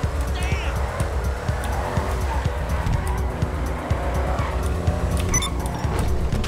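A car in GTA V Online skids and brakes with weak brakes, its engine roaring continuously while short tire squeals and skids break through, mixed with game noise and occasional talking.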